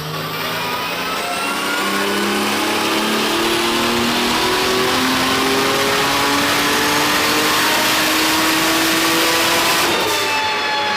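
Nissan drift car with a swapped 2JZ engine on a boosted run, a loud sustained engine note climbing steadily in pitch for about ten seconds before dropping off abruptly.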